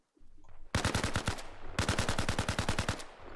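An AK-74 rifle fires in the video game Arma Reforger: two long, rapid automatic bursts of sharp, loud, evenly spaced shots, separated by a brief pause, with no talking.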